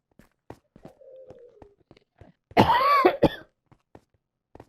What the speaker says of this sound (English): I had to randomly cough there.